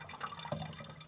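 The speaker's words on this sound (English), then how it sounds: "So I'm going to add some water" Water runs into a container during van life, a soft, steady splash and trickle heard up close at low volume, with no talk.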